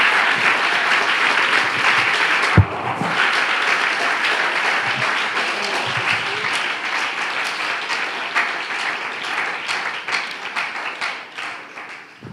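A church congregation applauds loudly for Jesus during a sermon, a dense, steady roar of clapping that lasts throughout, with one brief dip early on before it surges again.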